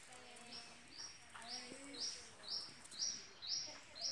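A long-tailed shrike in a cage gives a series of short, high chirps, roughly one every half second. The calls are close and fairly clear, and a voice talks faintly underneath.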